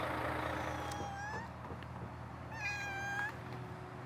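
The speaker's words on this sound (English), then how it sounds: "Lots of cats here." Several cats meow near a track and public road, two clear drawn-out meows with traffic rumbling steadily underneath.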